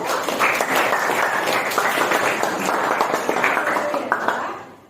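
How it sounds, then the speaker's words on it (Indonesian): A classroom audience of students claps together in a steady, lively burst of applause that fades out at the end. "Boleh kasih aplaus buat itu?"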